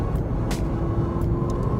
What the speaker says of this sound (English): Top down, cool weather, loud car, activate sport.